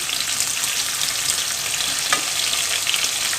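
Chopped tomatoes added to thinly sliced onion sizzling in hot oil for a curry, a steady close frying hiss with faint stirring, continuous and without speech.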